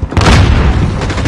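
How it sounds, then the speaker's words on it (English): A single loud, heavy grenade blast in Call of Duty Modern Warfare, a deep booming burst that rolls on briefly, close and alone. "Grenade out!"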